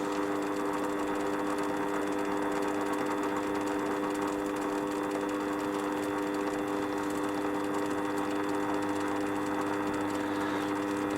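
A Warco metal lathe reaming a bore and taking only a fraction of a millimetre, giving a steady mechanical hum with a faint whirring rattle, even and continuous throughout.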